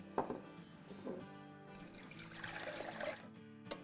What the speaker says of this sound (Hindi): इसमें डालेगी 1 कप ठंडा पानी